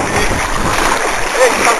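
Loud, churning water splashes as someone dives into a waterfall pool at Cachoeirinha de Pitangui, with continuous rushing water and voices nearby.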